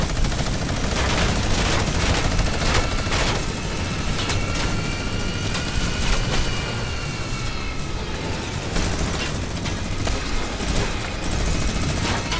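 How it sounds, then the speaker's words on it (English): Rapid gunfire from Fortnite's airplane royale mode keeps up across the whole stretch, with dense bursts of automatic shots, some explosion-like booms and the drone of aircraft, all loud and busy. "Who's shooting at us?"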